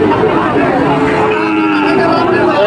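Sahiwal cattle at a livestock market give a loud, sustained low moo close by, standing out over a dense crowd murmur.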